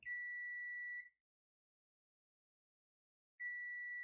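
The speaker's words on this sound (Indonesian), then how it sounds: "kita cek untuk buzzernya" Continuity buzzer of an Aneng ST190 digital clamp meter giving two clear, steady electronic beeps, each about a second long, separated by a pause of over two seconds, close and alone.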